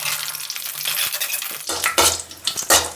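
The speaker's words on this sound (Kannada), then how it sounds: "ಇವಾಗ ಕರಿಬೇವಿನ ಸೊಪ್ಪು ಫ್ರೈ ಆಯಿತು." Curry leaves frying in hot coconut oil: a bright, crackling sizzle close by, broken by stirring and clattering pan sounds that grow louder and more frequent in the second half. No one speaks.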